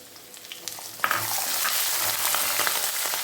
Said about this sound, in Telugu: ఇలా వేగేటప్పుడే కొంచెం పచ్చిమిరపకాయలు కూడా వేసేద్దాం ఇది కూడా బాగా వేగుతుంది